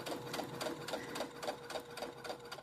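Steady, rapid rhythmic whirring of a sewing machine running a straight seam along the presser foot edge on pillow cover fabric, close and continuous with no voices.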